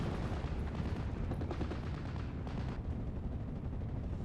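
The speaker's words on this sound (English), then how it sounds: "So I'm calling some fire from the 25 pounders to try and support the left flank." Continuous rumbling barrage of 25-pounder artillery fire in the WWII strategy game Steel Division: Normandy 44, dense overlapping booms and crackle filling the whole stretch, loud and steady with no distinct pauses.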